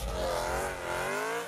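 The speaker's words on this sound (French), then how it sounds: "C'est donc un V8 atmosphérique de 4 litres qui est monté dans la M3 E92 et E90 aussi." BMW S65 4-litre naturally aspirated V8, as fitted to the M3 E92 and E90, revving hard in a brief, loud, close burst of rising and falling engine tone with no talk over it.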